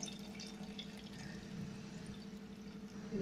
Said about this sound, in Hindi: सारा पानी मैंने इसमें डाल दिया है,